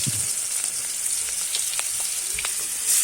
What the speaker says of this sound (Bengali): এবার গরম তেলে পেঁয়াজ দিয়ে দেবো।